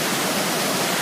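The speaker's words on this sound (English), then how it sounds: "I don't know if you can hear me over the water" An overflowing river rushing over a rock bed, a loud, steady broadband roar of churning water close by, with no voices.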